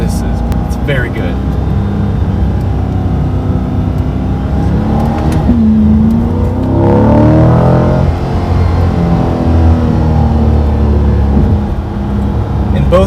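A V8 sports car, a 2020 Corvette C8 or 2008 Audi R8, accelerating with a rising, climbing engine note that swells in the middle and holds loud, with a voice talking over it.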